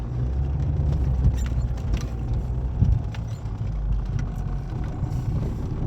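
Opel Zafira with a 2.0 engine and a fault that makes it lose pulling power, heard from inside while driving as the throttle is pressed, giving a steady low engine drone with road rumble and no talking.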